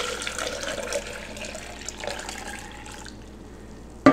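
Warm distilled water pours steadily into a blender jug, a close, even splashing stream that trails off near the end before a short clunk.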